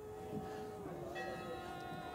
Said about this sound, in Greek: Ακούγεται τώρα και η καμπάνα